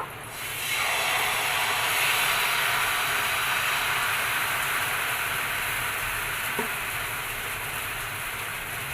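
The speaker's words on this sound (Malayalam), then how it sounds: "അതിലോട്ട് ഓയിൽ ഒഴിച്ചു കൊടുത്തു ഒരു കൈ മാവ് ഒഴിച്ചു കൊടുക്കുക" Wheat dosa batter poured into oil on a hot pan, a steady broad hiss of frying that rises quickly after a quiet start and holds for several seconds, with one faint knock.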